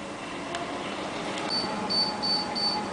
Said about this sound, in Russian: Вот гриль подал сигнал. Каша готова.